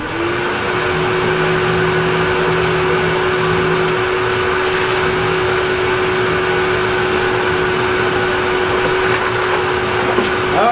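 An OTB Thinker shop vac system roars steadily, sucking up wood debris with a constant loud whine and a fixed motor tone throughout, no one speaking.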